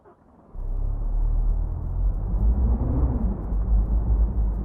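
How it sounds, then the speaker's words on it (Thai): A truck engine in the Truckers of Europe 3 driving game starts up and settles into a loud, steady low rumble that holds for several seconds with no talk. "แล้วก็สตาร์ทเครื่อง"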